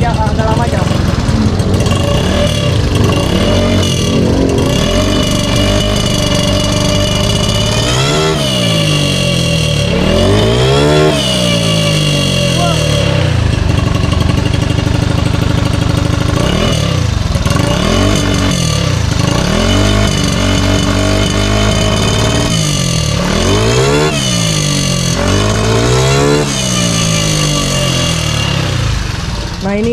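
A Honda Beat motorcycle with a 130cc engine, converted from carburetor to fuel injection, idles and revs loudly and continuously at close range, with repeated throttle blips rising and falling throughout.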